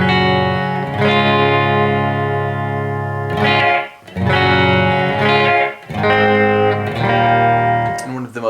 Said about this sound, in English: The Reflections gives you a psycho-acoustically modeled reverb room effect